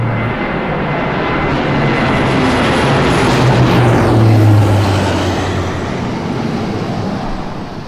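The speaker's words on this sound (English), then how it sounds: "Together it's flying with Casa 212, ladies and gentlemen, Pelican formation." A CASA 212 surveillance aircraft flies past in Pelican formation, a loud broadband engine roar that builds to a peak near the middle and then eases away, heard alone.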